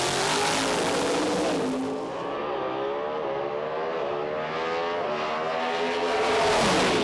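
Two Mustang GT drag race cars at an IHRA national event tear down the strip, loud engine roar with rising and falling rev tones through gear shifts, close and dominant with no talk.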